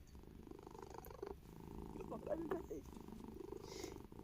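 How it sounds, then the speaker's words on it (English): A domestic cat purring close up in a quiet room, a soft steady rumble running under light handling noises. "My cat."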